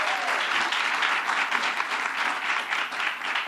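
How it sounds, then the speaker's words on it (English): An audience applauds the AFL-CIO president at a gubernatorial announcement on minimum wage and paid family leave, sustained and even clapping from a sizeable crowd, fairly close and full throughout. "Let's give him a round of applause."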